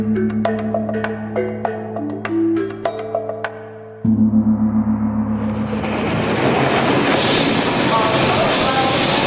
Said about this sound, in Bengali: স্টেশনে ট্রেন থামতেই